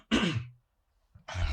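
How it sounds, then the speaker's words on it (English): A person recovering from an illness clears their throat or gives a short cough, one burst near the start and another near the end of a quiet pause, close and fairly loud, with no talking. "Excuse my coughing."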